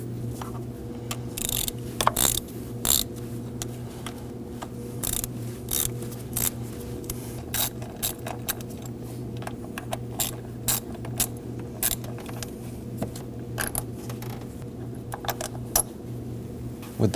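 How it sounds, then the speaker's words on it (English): A ratchet clicks in short, irregular bursts while loosening the bolts holding the pump on a 2009-2014 Ford F-150 3.5L V6, crisp ticks close by over a low steady hum, with no speech. "Removing these bolts, you want to only turn them one turn at a time each"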